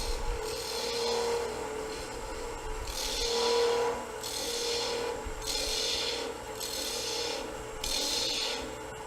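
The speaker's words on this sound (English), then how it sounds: "I'm going to use my 5/8 bowl gouge, sort of the bulk wood removal tool, and start thinning this down a little bit." A 5/8 bowl gouge on a wood lathe thins a turned bowl, making rhythmic, raspy scraping and hissing passes that swell and fade in repeated strokes against a steady motor hum.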